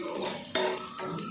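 Onions frying in a pan for Tulunad-style chicken sukka, a steady close sizzle with a stirring scrape partway through and another lighter one near the end.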